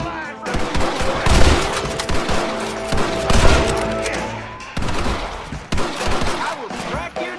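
Gunfire from a Red Dead Redemption shootout, dense and loud, with rapid overlapping rifle and pistol shots sounding almost without pause under shouted voices.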